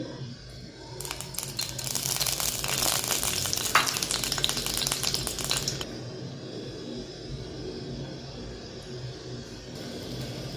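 White cooking oil heats in a wok, sizzling and crackling in a loud, dense burst that fades after a few seconds to a softer, steady fizz. Nobody speaks.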